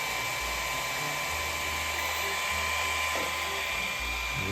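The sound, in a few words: MAX5 EZRUN 800kV motor revving in MCD XS5 RC car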